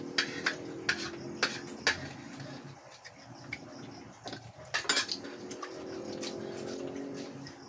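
Dishes, cutlery and pots being washed, with sharp metallic clinks and clatters coming in irregular bursts over a soft background murmur, fairly quiet and close.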